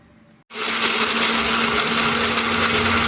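After a brief quiet moment, a mixer grinder starts up and grinds peanuts coarsely with a loud, steady, close whirring roar that continues without a break.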